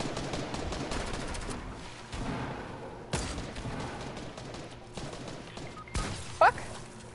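Gunfire in Fortnite on PS4, scattered shots and bursts cracking out at intervals over several seconds, fairly close, with game sounds in between and no talking.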